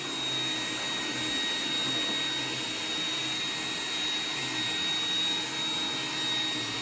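An iRobot Roomba 980 robot vacuum runs on automatic suction mode, a steady close whirring hum with airy rushing noise that holds constant throughout, no voices.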